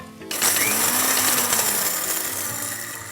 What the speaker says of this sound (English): We need to grind it a little finer.